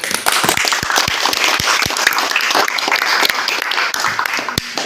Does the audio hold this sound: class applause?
yes